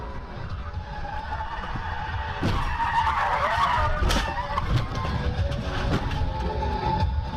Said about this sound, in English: The driver behind the camera comes up very fast and switches lanes, loses control, and spins out, causing the collision with the camera.